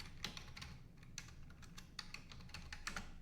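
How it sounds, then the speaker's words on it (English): Steady typing on a computer keyboard, a run of quick, light key clicks close to the mic, fairly quiet against a low background hum. "I'm going to type in my community name here"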